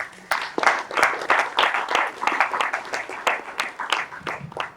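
Conference audience applauds the sponsors, a dense, steady round of clapping from many hands at moderate distance, sustained for several seconds with no speech over it.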